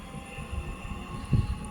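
Train at a station at dawn, heard as a low rumble and hum of rolling stock with a brief louder thump near the end, fairly quiet and steady.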